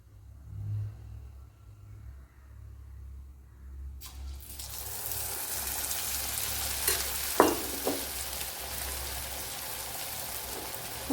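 Banana pieces coated in dosa batter with sesame seeds drop into hot oil, starting a loud bright sizzle that keeps going, with a few short bubbling pops, after a quiet low hum.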